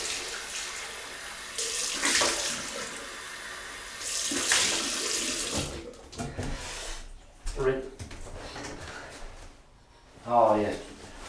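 Tap water runs steadily as a double-edge razor, a Gillette Fatboy, is rinsed under it. The stream is interrupted by brief splashes and clinks, and a voice talks softly near the end.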